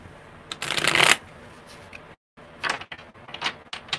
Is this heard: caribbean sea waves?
no